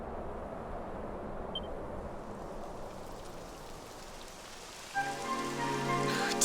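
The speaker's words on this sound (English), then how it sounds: "It would have to go and start raining" Steady rain pours across the scene in Dragon Quest XI, a dense, even hiss of drops on the ground that holds throughout, with a brighter layered tone rising over it near the end.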